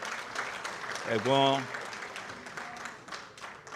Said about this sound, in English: Please let's give her a big round of applause as well.